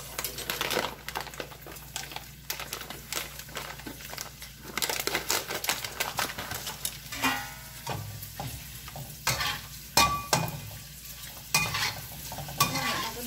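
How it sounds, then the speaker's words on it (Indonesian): Kerupuk crackers frying in hot oil, a steady dense sizzle with crackling bursts and occasional stirring clatter, fairly close and continuous with no talking. "tapi hari ini goreng kerupuk ya"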